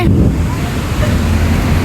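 Big ocean waves crash and surf roars continuously at Galle beach, Sri Lanka, close and loud with wind buffeting the microphone, in a brief burst.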